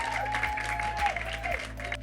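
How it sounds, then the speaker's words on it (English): Audience members at a panel discussion clap, a moderate burst of applause under a steady electrical hum, with no voices over it. "So can I hear a huge hand clap?"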